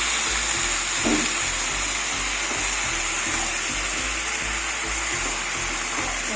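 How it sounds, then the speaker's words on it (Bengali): Vegetables for a pui shak ghonto with katla fish head and tomato sauté in oil in a pan over a lowered gas flame, giving a steady broadband sizzle with soft stirring scrapes throughout, close and continuous, with no talking. "সবজি কষাতে কষাতে তেল ছেড়ে দিয়েছে"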